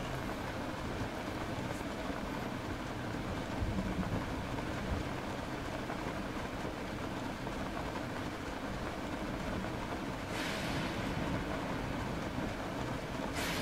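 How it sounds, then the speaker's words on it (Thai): Rain falls in The Legend of Zelda: Breath of the Wild as a steady, soft broadband hiss that continues without a break, faint and even throughout with no voices. "ฝนตกด้วย"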